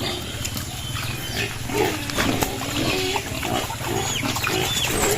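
A herd of pigs living under trees eating cassava, with close grunts, snorts and wet chewing layered over a steady outdoor background.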